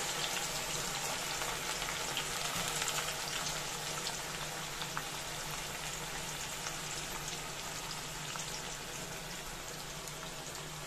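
Sliced onions fry in hot oil in a kadai, giving a soft, continuous crackling sizzle with tiny pops, fairly quiet and even throughout, with no one talking.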